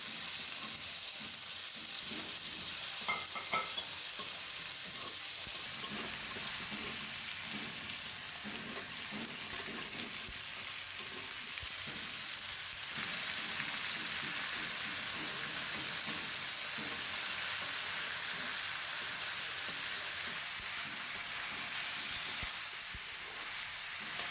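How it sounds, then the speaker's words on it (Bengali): Malabar spinach seeds and potatoes sizzle steadily in hot oil with garlic, onion and chili, a dense even crackle with occasional stirring scrapes running unbroken throughout, no talk. "রসুন, পেঁয়াজ, মরিচ একটু ভেজে আমি পুঁই বিচি ও আলু দিয়ে দিলাম।"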